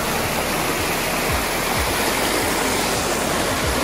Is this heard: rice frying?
no